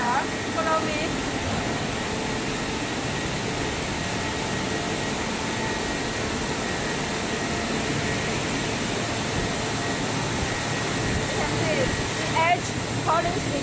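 An Italian-made automatic edge-polishing machine works the edge of a stone countertop in a processing factory, giving a steady, loud broadband grinding drone throughout, with faint voices and a few light clicks in the background.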